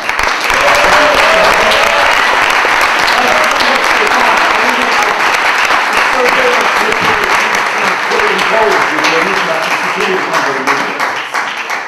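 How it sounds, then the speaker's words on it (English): Sustained, loud applause fills a large audience for the spectacular icon from Table Mountain, dense clapping throughout with a faint voice or music line threading underneath. "Ladies and gentlemen, please another round of applause for the spectacular"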